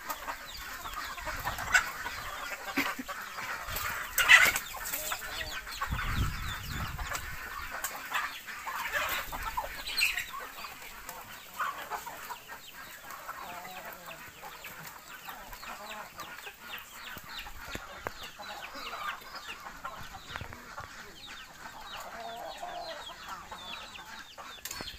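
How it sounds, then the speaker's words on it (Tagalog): A backyard flock of mixed native and breed chickens clucks steadily at low to moderate volume, with scattered louder calls rising over the soft ongoing chatter of the birds. "manok di kati"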